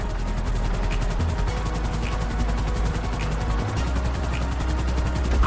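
A helicopter flies in the video game Grand Theft Auto V, its rotor chopping in a fast, steady throb over a dense engine roar that stays loud and constant throughout.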